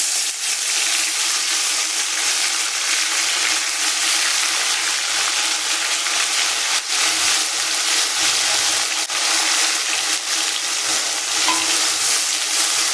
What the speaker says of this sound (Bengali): তারপরে দিয়ে দেবো জিরা বাটা, দিয়ে দিচ্ছি হিং